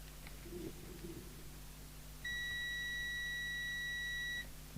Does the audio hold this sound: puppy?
no